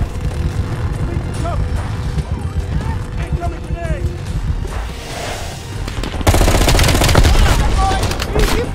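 Gunfire in Call of Duty: Black Ops Cold War on PS5: scattered shots early on, then dense rapid bursts of automatic fire in the last few seconds, all under excited talking.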